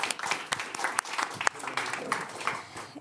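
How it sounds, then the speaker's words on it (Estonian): Audience at an Estonian public-sector science workshop clapping, a dense burst of hand claps that carries on for a few seconds, close and fairly loud, with some voices mixed in. "Plaksutame ka."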